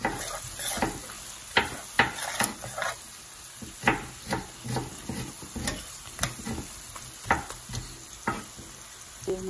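Onions frying with beef seasoning are stirred in a pan, a spoon scraping and clacking against the metal in irregular strokes over a low sizzle, close and clear, with no voices.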